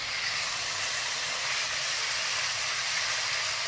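Tomatoes hit a pan of frying chicken for chicken do pyaza, setting off a loud, steady sizzling hiss that fills the whole stretch without pause.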